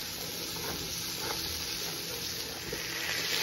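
Chopped carrot, onion, cucumber, lettuce and garlic fry in butter with a steady, close hiss of sizzling, broken by faint stirring scrapes and no voices.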